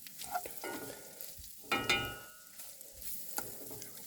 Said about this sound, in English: I'm going to cook up the flour a little bit so it doesn't taste like flour anymore